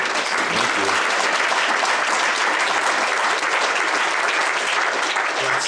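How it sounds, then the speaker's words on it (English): Loud, dense audience applause at a summit opening session, continuous and even from start to finish with no clear talk on top. "Let's give another big round of applause."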